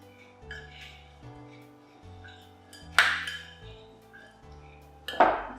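A spoon stirs fruit, nuts and coconut flakes together in a bowl, with soft scraping and two loud clinks against the bowl over a faint steady background hum.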